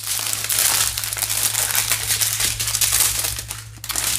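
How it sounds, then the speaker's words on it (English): Plastic packaging crinkles steadily while a Christmas-themed kit is unpacked, a loud, close, continuous rustle and crackle with no talking. "Sorry for all the crinkling."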